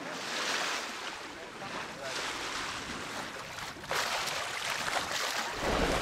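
Sea waves and gusting wind buffeting a microphone on a sailing boat at sea off the Suffolk coast, a continuous rushing wash with surges and wind rumble, close and fairly loud, with no talk.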